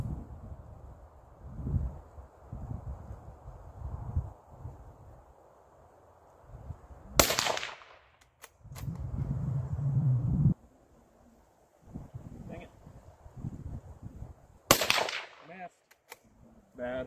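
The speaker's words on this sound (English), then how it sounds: "I'm going to take a couple of shots." A few sharp gunshots fired outdoors by someone standing upright, two loud cracks about seven seconds apart, each trailed by brief echoes, over wind and low rumble between shots.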